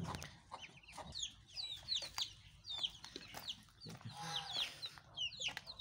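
Free-range fancy chickens and two-month-old chicks, golden heavy buff and silver sprite, cluck and cheep in short, repeated calls at close range over faint outdoor background noise.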